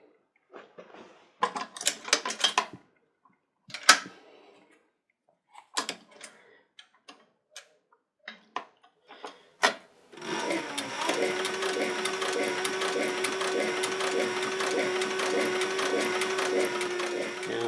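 A sewing machine stitches a leather holster for a Colt Single Action Army revolver, starting after scattered handling clicks and knocks and then running as a steady, rapid mechanical chatter close to the mic.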